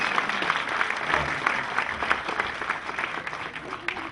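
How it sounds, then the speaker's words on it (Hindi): Audience applause at the Dehradun International Film Festival in India, a steady wash of clapping filling the hall for the full stretch, with some voices mixed underneath. "और उसके लिए एक बार जोरदार तालियां प्लीज।"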